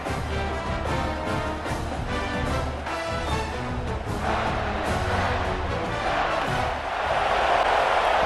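Home crowd cheering at a football game in a video game, a dense sustained roar of many voices that stays loud throughout and swells slightly near the end.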